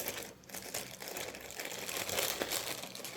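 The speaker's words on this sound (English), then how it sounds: "Don't want to rip the plastic bag because I actually like using these." A plastic bag is handled and crinkled up close, a steady rustling crackle with brighter crunchy bursts throughout and no voices.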